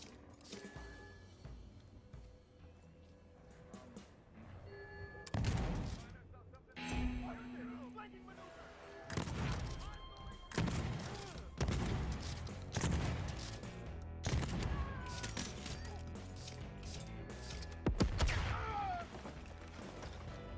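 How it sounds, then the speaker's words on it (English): Shotgun blasts in the first-person shooter DeathLoop, several loud booming shots spaced irregularly amid clattering game effects, with a player talking over the action. "Damn, this shotgun is long range!"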